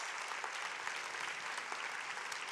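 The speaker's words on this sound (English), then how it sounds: "you have to give Forever a huge round of applause" Audience applause fills a conference hall, a dense, steady wash of many hands clapping at even loudness throughout.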